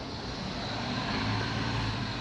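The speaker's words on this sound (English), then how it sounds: "So the engine restarted." A Lexus RX400 hybrid's engine runs steadily after restarting, a continuous low rumble with broadband noise, constant in level throughout and heard alone without talk.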